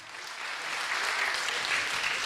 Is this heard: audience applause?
yes